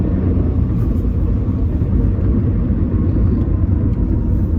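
A Mitsubishi Galant ST pulling in third gear gives a loud, steady engine drone and road rumble from inside the cabin, continuous with no breaks.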